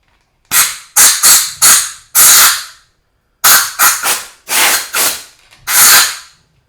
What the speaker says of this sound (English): next I'm going to use some compressed air and blow out all the chips